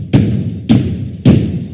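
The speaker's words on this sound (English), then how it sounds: "The robot banged on the door for a few seconds" A robot pounds on a heavy closed door, three loud, evenly spaced thuds about half a second apart, close and booming, with a low room hum continuing between blows.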